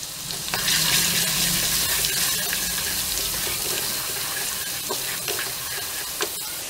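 Ginger-garlic paste and Kashmiri red chili powder fry in a pan for a paneer gravy, giving a steady close sizzle with occasional stirring scrapes and clicks throughout, no talking.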